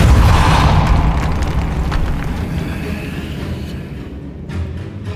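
A Depulso spell blast in Hogwarts Legacy, a loud booming burst at the start that slowly fades into a lingering rumble.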